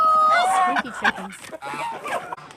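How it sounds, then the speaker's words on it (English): Squeaky rubber chicken toys make clucks and crowing-like calls, loud and close, chattering over each other in quick bursts. "Squeaky chickens."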